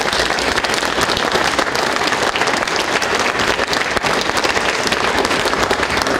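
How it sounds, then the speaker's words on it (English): A large audience at a NATO at 70 panel discussion applauds the panel, loud, dense and continuous clapping filling the room from start to finish with no voices over it. "Please give a round of applause for our panel."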